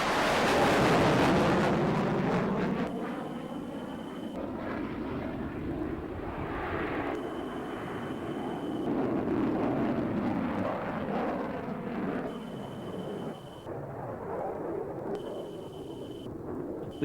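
An F-16 Fighting Falcon fighter jet roars through a demonstration flight at an Australian airshow, a loud broad jet rush that swells early and then holds as a sustained distant roar with wind buffeting the microphone.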